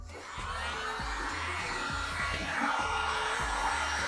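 Heat gun blowing steadily while heating stickers on a go kart, a continuous airy whoosh with faint rhythmic knocks beneath, held close and loud throughout.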